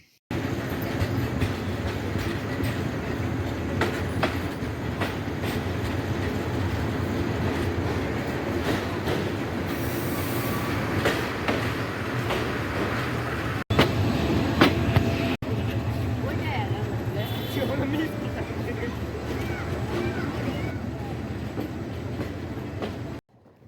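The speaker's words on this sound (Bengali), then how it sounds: "এই মুহূর্তে আমাদের ট্রেন প্রবেশ করলো তার যাত্রাপথের অষ্টম স্টপেজ মানিকখালী রেলওয়ে স্টেশন" A train rumbles steadily with rhythmic wheel clatter and a loud rushing roar, slowing into Manikkhali railway station in Bangladesh, with faint voices mixed into the din.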